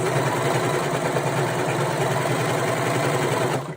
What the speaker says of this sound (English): I'm just gonna let my serger chop off the edge of this